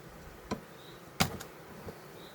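Honeybees hum faintly around an open hive, with brief thin buzzing passes over a quiet background, broken by a few soft knocks and taps on the wooden frames.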